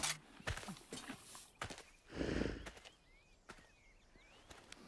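A horse's hooves clip-clop in sharp, uneven strikes close by, with a louder rumbling thump partway through and faint bird-like chirps in the background.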